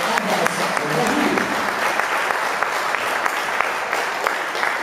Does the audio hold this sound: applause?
yes